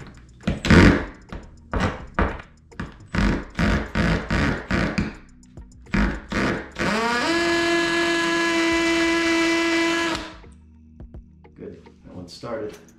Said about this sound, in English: just be really careful when you drill into tile